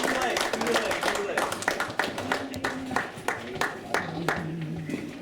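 A group clapping hands during a coaching session, sharp repeated claps in loose rhythm mixed with a voice talking over them, fairly close.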